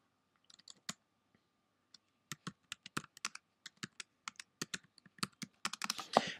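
Keys click on a computer keyboard as text is typed, in an irregular run of sharp, close taps. The taps are sparse at first and grow quicker, with no talking.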